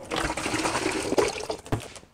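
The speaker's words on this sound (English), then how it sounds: "We'll fill this up to the 4 liter point and I'm choosing to use distilled water here." Distilled water pours steadily into a bucket while a film developer is mixed, a continuous close splashing rush with small surges near the end.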